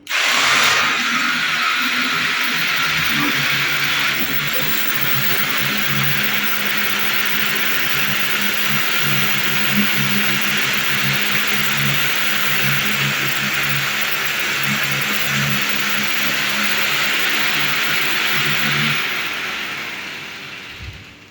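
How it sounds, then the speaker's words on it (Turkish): A loud, continuous whine from ceiling drilling machines, raised on a lift, running steadily for about twenty seconds, then tapering off as they wind down. "matkapları çalıştırıyoruz"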